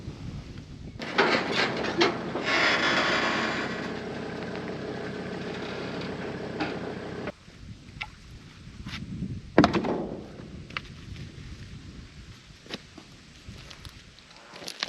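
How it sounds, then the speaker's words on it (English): A trailer is backed into place where big wood rounds are being handled. A steady engine rumble runs for about six seconds and then cuts off, followed by scattered thunks, knocks and footsteps nearby. "let's get this trailer backed in"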